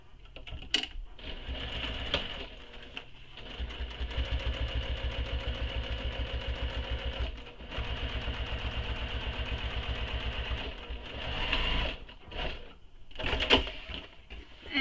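A sewing machine top stitches along a seam of a small crossbody handbag, running in steady bursts of close mechanical whirring broken by short pauses, with no voices.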